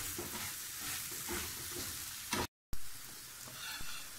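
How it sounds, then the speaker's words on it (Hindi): Mashed potatoes and onions frying gently for samosa filling, making a constant, dense sizzle with scraping stirs, cut by a brief silent gap partway through, heard up close without talking. "आलू भी थोड़ी देर प्याज के साथ ऐसे लाइट हल्के हल्के से पका लेंगे हम ना"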